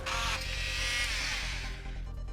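A Bosch PMF 250 CES oscillating multi-tool cuts through a protruding metal nail, giving a steady, loud, buzzing whine that holds close up for the whole stretch and eases slightly near the end.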